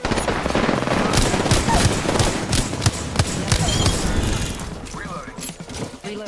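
Rapid automatic gunfire from an Apex Legends match, loud and dense bursts running almost continuously with sharp individual shots, thinning toward the end.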